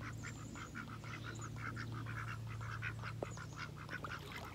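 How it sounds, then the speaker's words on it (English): Ducks on a farm quack excitedly in a rapid, overlapping chorus, close by, with a steady low hum in the background. "I guess we'll just pause the video so you guys can watch my ducks go crazy."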